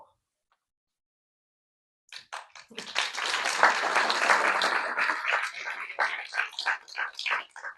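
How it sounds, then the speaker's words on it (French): Audience applause at a community launch event: after two seconds of silence, clapping breaks out and builds into a dense, fairly close ovation, then thins into scattered claps toward the end. "Vous n'avez pas besoin d'applaudir à chaque fois que je tourne un cas"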